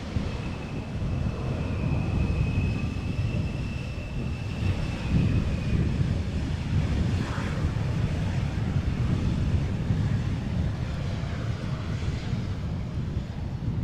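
A German Airways Embraer 190 jet at Schiphol gives a distant, steady engine roar with a faint whine, partly masked by gusty wind noise on the microphone.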